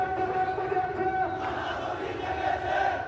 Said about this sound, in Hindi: ढाका की सड़कों पर उमड़ी ये भीड़ बांग्लादेश में अल्पसंख्यकों विशेषकर हिंदुओं के लगातार उत्पीड़न के खिलाफ जनाक्रोश है।